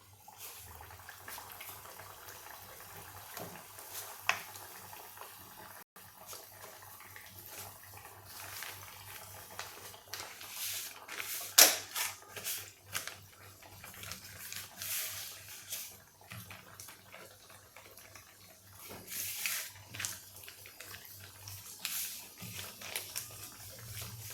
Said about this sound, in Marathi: आता मी याला तेलात सोडते